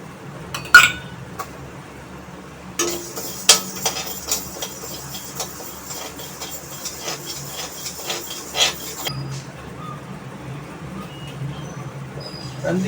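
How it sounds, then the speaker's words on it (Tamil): Fenugreek seeds dry roasting in a pan for homemade kuzhambu chilli powder: a soft, steady rustle and scrape of seeds stirred against metal, with a few sharper clinks and a quiet voice now and then. "வெந்தயம் வறுத்தாச்சு போட்டுக்கலாம்"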